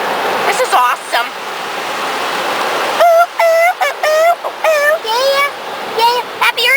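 Steady hissing spray of water from the car wash shower in the Webkinz online game runs throughout, with children's excited voices talking over it.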